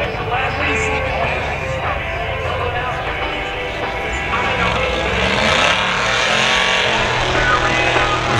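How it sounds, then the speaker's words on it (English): A 1958 Chevy Del Rey rumbles at a hot rod and rat rod car show, its engine giving a loud, continuous low growl that swells slightly toward the end. Crowd noise and background voices sit around it. "This is a 58 Chevy Del Rey."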